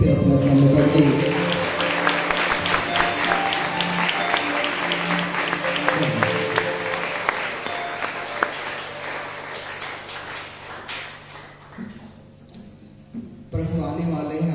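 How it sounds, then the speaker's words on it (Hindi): A church congregation applauding loudly at a Hindi-language Christian service, dense clapping that gradually thins and fades, with a few voices and a brief tonal drone near the end. "जोरदार ताली बजाइए"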